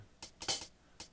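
A few short, crisp hi-hat hits in Fruity Loops, bright and hissy, spaced unevenly with quiet gaps between them.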